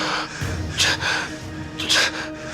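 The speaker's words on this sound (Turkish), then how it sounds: "Bir nefes alırken zorluyor." Strained, labored breaths with sharp gasping inhalations, two prominent pulls of air about a second apart, close up over low background rumble.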